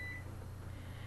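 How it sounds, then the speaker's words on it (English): Kitchen oven timer beeping while dinner cooks at 350 degrees, a faint steady electronic tone over low appliance hum, brief and unaccompanied by talk. "oh, my timer's going off."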